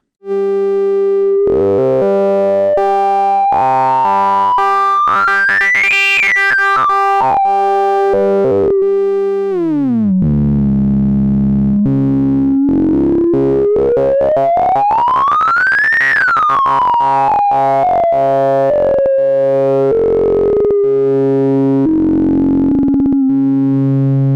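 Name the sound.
Make Noise XPO oscillator sync effect synced to Maths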